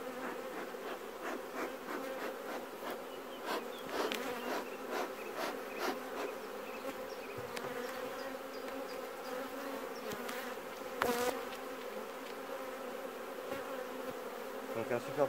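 Honey bees buzz around an open brood frame lifted from a hive, a dense, continuous close drone with individual insects swelling louder as they pass near.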